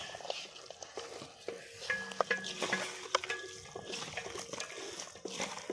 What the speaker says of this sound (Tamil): நல்லா மிக்ஸ் பண்ணி வச்சுக்கலாங்க